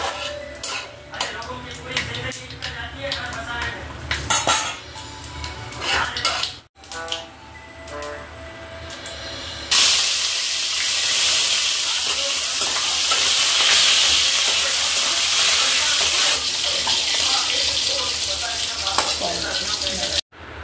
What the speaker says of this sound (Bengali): করলাটা ভেজে আমি তুলে নেবো